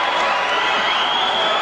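A wrestling crowd at a 1994 pro wrestling match roars and cheers after a wrestler spits on his opponent, a loud, continuous wall of arena noise.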